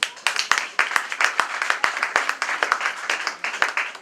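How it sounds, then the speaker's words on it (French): Wedding guests clap for the grooms in a lively, uneven round of applause, with sharp individual claps standing out over a steady patter that carries on throughout. "Est-ce qu'on peut applaudir pour les chefs?"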